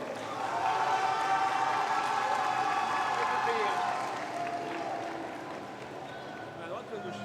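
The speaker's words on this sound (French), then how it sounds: "On l'applaudit bien fort." A convention crowd at the Japan Expo festival conference applauds, a steady distant wash of many hands clapping in a large hall, easing off toward the end with faint voices mixed underneath.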